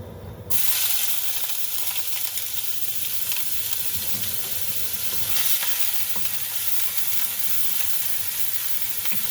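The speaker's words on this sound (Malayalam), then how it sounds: "കടുക് പൊട്ടിക്കഴിഞ്ഞപ്പോഴത്തേക്ക് അതിലോട്ട് ഉള്ളി," Onions hit hot oil after mustard seeds pop, a sudden loud sizzle settling into a steady, close crackling hiss, with faint stirring underneath.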